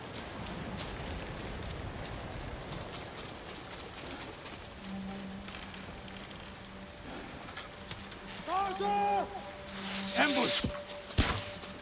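Rain and wind in the video game Ghost of Tsushima make a steady soft hiss of falling rain, with a low hum, brief tonal game effects and a few sharp sounds rising over it near the end.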